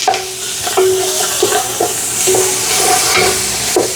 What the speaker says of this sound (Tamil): கொஞ்சம் கொரியாண்டர் கொஞ்சம் இறக்கையும் போட வேணும். அதையும் மிக்ஸ் பண்ணி விட போகிறேன்.